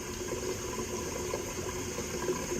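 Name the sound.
water draining through a bell siphon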